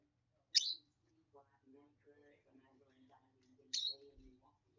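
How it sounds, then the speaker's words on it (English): A pet bird gives two sharp, bright chirps a few seconds apart, close by, with someone talking softly in between. "Mama's little baby bird."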